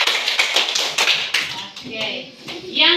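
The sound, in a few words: rhythmic triangle clap by children for three students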